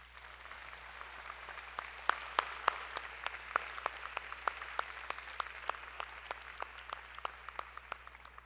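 Sparse, distinct claps ring out steadily at a New Year's wishes ceremony in Cavalaire, as the audience applauds local firefighters, individual hand strikes spaced in a loose rhythm and fairly faint in a quiet hall.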